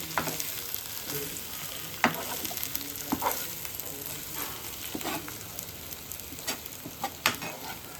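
Eggs and peanuts fry on low heat, producing a steady close sizzle with occasional scraping stirs and light knocks against the pan.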